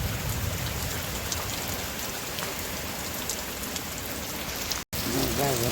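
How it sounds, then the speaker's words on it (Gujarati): Heavy night rain pours steadily onto surfaces in a village during a lightning storm, a dense continuous hiss with a brief cut near the end and faint voices after it. "અમારા ગામમાં વરસાદ આવી ગયો વીજળી થાય છે"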